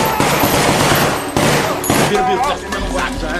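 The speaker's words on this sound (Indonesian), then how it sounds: "Lara yang mendengar suara tembakan pun segera mencari sumber suara tersebut" Gangster gunfire in a film scene: dense bursts of rapid automatic shots, loud and close, in clustered volleys with brief pauses between them.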